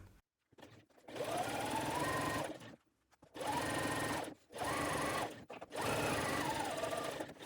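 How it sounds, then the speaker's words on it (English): A sewing machine stitches two fabric pieces together at a quarter-inch seam, running in four steady whirring bursts separated by short pauses, close and clear with no talking. "we're going to sew these two together again using the same 1/4 inch seam allowance"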